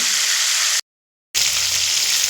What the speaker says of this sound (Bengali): উল্টে পাল্টে একটু লাল করে ভেজে নেব